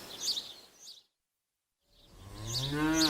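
A cow moos twice, a short call, a second of silence, then a longer, deeper low moo that rises and holds.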